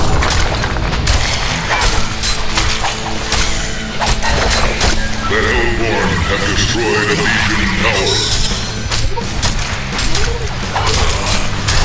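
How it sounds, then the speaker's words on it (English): In the Heroes of Newerth battle, heavy booming impacts and crashing hits sound as a Legion tower is destroyed, mixed with clatter of combat effects and an announcer-style voice throughout. "The Hellborn have destroyed a Legion tower."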